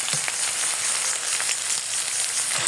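Spices with ground and dried chilli paste sizzle steadily in a hot pan, a dense continuous frying hiss with faint scraping as they are stirred, close and alone.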